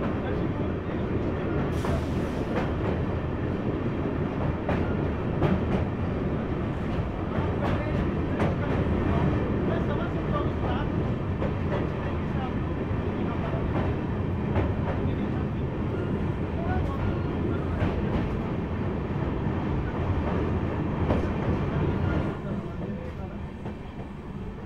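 Sealdah–Jalpaiguri Road Humsafar Express crossing Nasipur bridge, a continuous loud rolling roar with rattling clatter from on board, easing slightly near the end.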